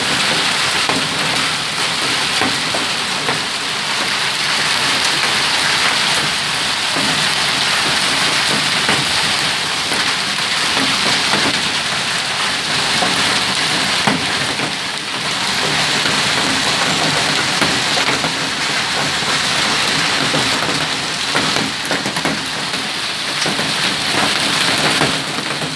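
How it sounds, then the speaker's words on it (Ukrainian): Heavy hailstones pelt down in a storm, a dense, steady clatter of impacts that stays loud and unbroken throughout, with no voices. "Які великі! І великий град!"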